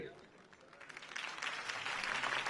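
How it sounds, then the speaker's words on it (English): A video game crowd in Batman: The Telltale Series claps and cheers, swelling from a thinner patter into steady, loud applause, with voices mixed underneath. "could have heard that applause"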